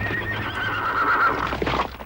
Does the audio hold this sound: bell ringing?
no